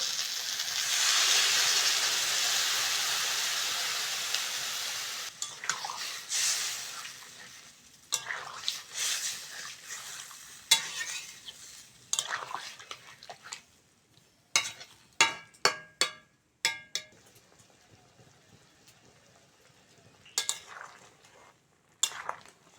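Curry gravy of ginger-garlic paste, salt, turmeric, chili powder and water in a pan: a loud steady hiss for several seconds, then quieter bubbling broken by repeated sharp spoon-against-pan clatters.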